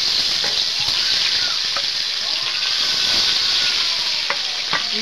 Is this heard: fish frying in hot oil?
yes